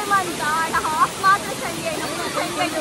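Adyar waterfall during the rainy season: a steady, broad rush of falling water fills the scene, with faint voices talking over it.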